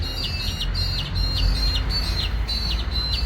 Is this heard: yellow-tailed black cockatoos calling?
yes